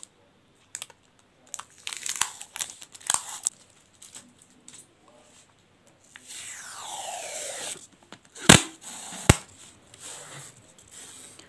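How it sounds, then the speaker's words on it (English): Black tape is handled on a handmade photo frame: scattered crinkles and rustles, a longer tearing or peeling stretch midway, then two sharp snaps, all close and fairly quiet with pauses between. "So now this is how to put the black tape."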